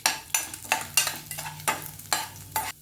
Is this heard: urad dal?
yes